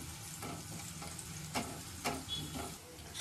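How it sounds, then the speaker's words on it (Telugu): Onions fry in a pan for a chicken fry, a continuous close sizzle with a few sharp clinks and scrapes of stirring breaking through. "ఆనియన్స్ ఫ్రై చేస్తున్నారు"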